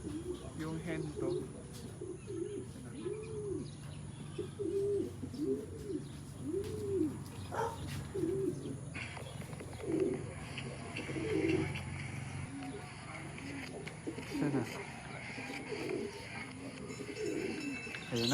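Racing pigeons arrive and settle at the loft during a fun race in Castilla, Sorsogon, with repeated nearby cooing and soft chirps over a steady outdoor background, while people talk now and then.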